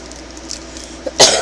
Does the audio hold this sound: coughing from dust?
yes